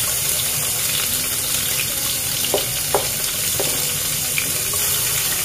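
Onion sizzling in hot healthy oil in a pan while cooking ground pork with cabbage, a loud, steady, close frying hiss with a few faint pops and clinks and no talk.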